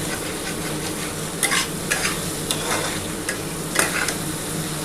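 Snakehead fish chilli with capsicum fries with a constant loud sizzle while a spatula stirs it in a pan. Several scraping strokes rise above the hiss at uneven intervals, with no voices.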